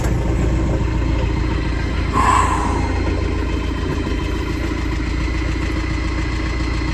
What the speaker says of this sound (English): let's get up in here, get this tractor going